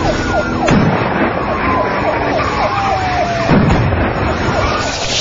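A police response vehicle's wailing siren sweeps up and down continuously during a car chase, loud and close over steady road and engine noise.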